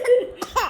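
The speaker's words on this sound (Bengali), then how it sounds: "ওরম করলে কাশি আসে।" A young child gives two short coughs close by, the second sharper and ending in a slight rising voiced tail, with no speech over them.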